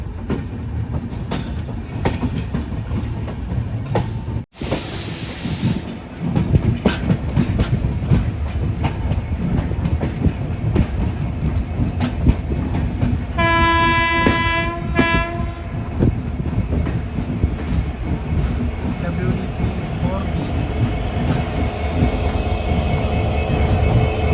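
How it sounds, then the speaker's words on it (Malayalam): A train arriving at Jammu Tawi station rumbles and clatters steadily and loudly from the inside, and its horn blasts once in a sustained tone midway. "ട്രെയിൻ ഇതാ ജമ്മു തവി സ്റ്റേഷനിലേക്ക് എത്തിക്കൊണ്ടിരിക്കുകയാണ്."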